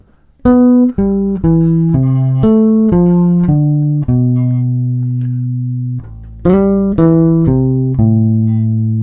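A bass guitar plays descending arpeggios, notes stepping down from high to low in two runs, the last notes left ringing, clear and close.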